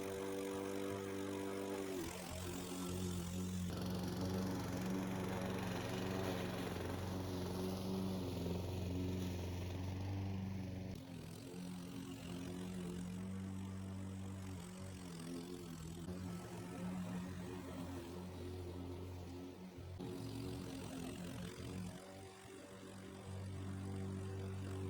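Yardmax 22-inch self-propelled lawn mower pull-started and running steadily outdoors, its engine a constant droning hum with slight load changes, heard alone.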